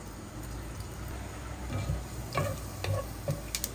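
Cumin frying in a pan for a Bengali chechra dish, a soft steady sizzle with a few light stirring clicks and scrapes of a utensil near the end, no talking.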